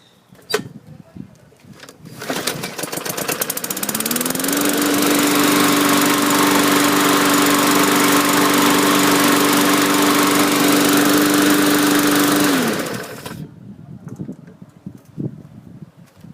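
A Bolens 20-inch push lawn mower engine catches, runs loud and steady close by for about nine seconds, then cuts out, leaving quieter background sounds.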